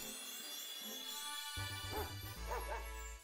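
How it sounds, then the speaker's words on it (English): A dog-like Pokemon cry from the video game Pokemon Scarlet & Violet, several short yipping barks in quick succession over steady game background music. "It literally just has like dog noises."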